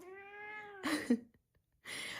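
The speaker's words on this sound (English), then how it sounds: "Oh, the kitty." Cat giving one long, clear, close meow, followed by a few soft rustles and brief chirpy sounds in a quiet room.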